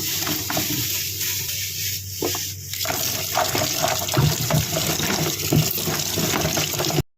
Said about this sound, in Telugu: ఒక నాలుగైదు సార్లు మంచిగా శుభ్రంగా నీటితో కడుక్కోవాలి